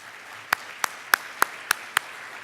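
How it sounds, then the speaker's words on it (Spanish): Six sharp, evenly spaced hand claps from a single person, close and crisp against a quiet background. "También quiero pedir un gran aplauso para José Antonio Vieragallo."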